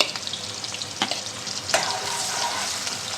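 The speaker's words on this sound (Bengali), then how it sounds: "আমি কড়া বসিয়েছি, তেল গরম হয়ে গেছে। এতে আমি দিয়ে দিচ্ছি পেঁয়াজ কুচনো।" Chopped onion and garlic hit hot oil in a kadai for a green moong dal tadka, giving a steady, close, broadband sizzle with a couple of sharp crackles and no talking.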